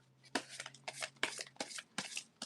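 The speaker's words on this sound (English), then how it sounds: "I'm going to shuffle a little bit slower" Tarot cards are shuffled in quick riffling bursts, about six in a row, close and soft against a faint low hum.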